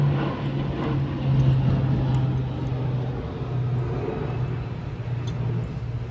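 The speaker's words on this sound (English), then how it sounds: "Two planes, must be military." Two military planes pass overhead near a beach, a continuous broad engine roar with a low droning hum that holds steady and fairly loud throughout.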